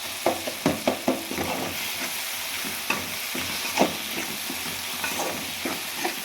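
Onion and tomato sautéing in a pan for kara chutney, with repeated spoon stirs and scrapes over a steady soft sizzle, several sharp clatters standing out, close and alone with no talk.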